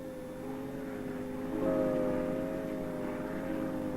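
A steady engine drone hums throughout, rising a little in loudness partway through, like a propeller plane passing at a distance over the Grand Canyon.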